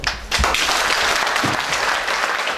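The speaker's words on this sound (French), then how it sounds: "On acclame." An audience applauds after a speech at an evening gathering for UFC Congo in Paris, a dense, steady wash of clapping that fills the whole moment, loud and close.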